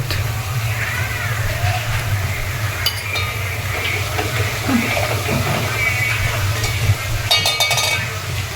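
Onion and masala paste for a crab curry are stirred in a pan, with a steady sizzle and occasional spoon scrapes and clinks close by over a low background hum.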